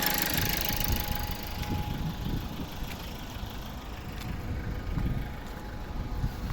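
A 2012 Toyota Verso 2.0 D-4D diesel engine idles steadily and evenly with a low, continuous rumble and faint ticking, no voices present.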